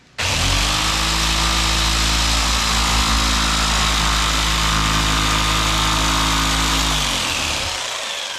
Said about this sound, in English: I'm using my jigsaw with a fine blade.